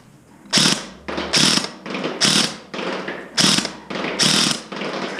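A WellPro WE23 airsoft minigun fires in repeated short bursts at an indoor range, roughly eight sharp buzzing volleys over five seconds with brief gaps between them and a low motor hum underneath, close and loud with no talking.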